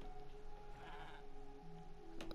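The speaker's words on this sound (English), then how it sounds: "let's just spawn a llama" A llama spawned in the Minecraft video game gives a single bleating cry near the end, heard over steady game background sound.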